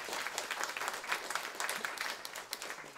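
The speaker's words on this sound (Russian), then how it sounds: "пожалуйста, поддержите меня аплодисментами" A crowd applauding: dense, continuous clapping from many hands, lively and sustained, with no speech.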